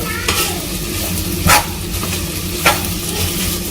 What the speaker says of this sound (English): On a high flame we'll just stir it for some time